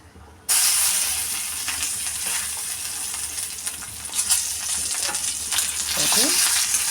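Dried red chillies and garlic dropped into hot oil for a Tamil pirandai chutney, bursting into a loud, close, continuous frying hiss that holds steady, with faint clinks of stirring near the end and no voices.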